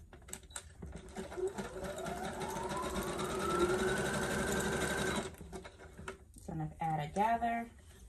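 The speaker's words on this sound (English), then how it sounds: "I'm going to sew a few more inches" A sewing machine stitches layers of tulle gathers on a mermaid prom gown, a rapid motor run that speeds up and holds for a few seconds before stopping, with someone speaking quietly around it.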